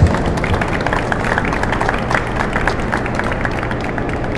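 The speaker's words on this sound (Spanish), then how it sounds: "merecen un aplauso de todos y para todos" Applause from a church congregation celebrating two newly finished turbines at a blessing ceremony: dense, steady clapping across the whole stretch, crowd noise mixed in, moderately loud and without pause.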